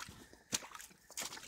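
Water squishes and sloshes inside wet hunting boots with each step, two quick, faint wet squelches in a short walking rhythm, close to the ground.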